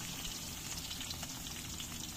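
Onion dropped into garlic already frying in a pan for ginamos, a dense crackling sizzle close up and fairly loud, steady for the whole short stretch with no voices.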